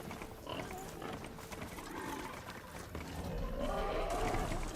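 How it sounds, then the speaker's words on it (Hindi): Pig grunts and squeals from the video game Horizon Zero Dawn Remastered, rising toward the end over a busy gameplay background with movement noise. "सुअर गिर जाएगा।"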